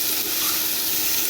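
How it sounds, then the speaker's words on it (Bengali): Potatoes frying in a pan together for a taro (guri kochu) and prawn curry give off a steady, close, even sizzle, with no voices over it. "আর আলু আমি একসাথে ভেজে নিচ্ছি গুঁড়ি কচুর জন্য।"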